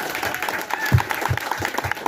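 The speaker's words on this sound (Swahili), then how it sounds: "Pigieni mama makofi tena." A church congregation claps for a woman, rhythmic applause rising under a loud voice speaking over it, with crowd noise in the background.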